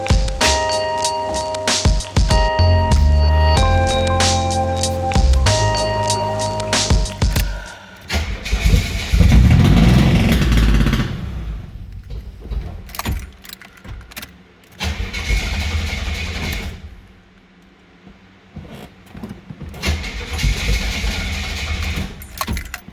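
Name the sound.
1983 Regal engine starting after five years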